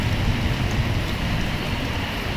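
Rain pouring steadily outdoors on a street, a dense, even wash of noise with a low rumble underneath, loud and unbroken, with no voices.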